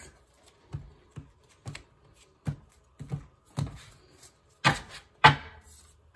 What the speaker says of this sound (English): All right, last shuffle for Aquarius.